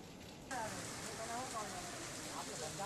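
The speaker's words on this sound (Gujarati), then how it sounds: "હજી પણ વરસાદ વરસી રહ્યો છે" Monsoon rain falls in Dwarka as a steady, even hiss that starts abruptly after a quiet moment and continues under a voice.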